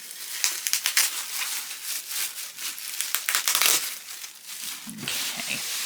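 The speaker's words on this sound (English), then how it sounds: "let's unwrap, see what we've got" Crinkling and crumpling wrapping on a birthday gift package of adult colouring supplies as it is unwrapped up close, a continuous rustle with sharper crackles and tearing bursts throughout.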